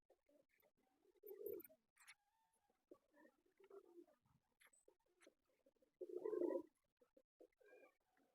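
Soft, low pigeon coos come in a few separate bursts with quiet gaps between them, plus faint scratching and fluttering close by. Nobody is talking.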